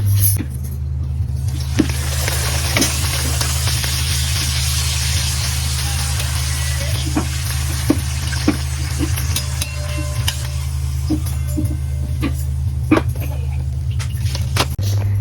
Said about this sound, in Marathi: लाडू ते एक फ्राय करून ते दोघी लाटतं मी फ्राय करतो.